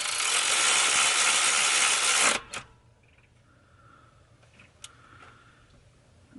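A Kimo cordless ratchet runs loudly and steadily for about two seconds as it tightens, then stops abruptly, leaving a quiet room with a few faint clicks and taps.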